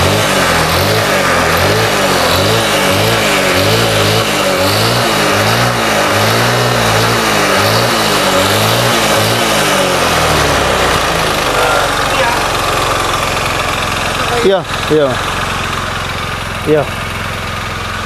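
Honda Beat motorcycle with a carburetor, its engine revved in rhythmic throttle blips for about ten seconds before settling to a steadier running tone, close by, with a person speaking briefly.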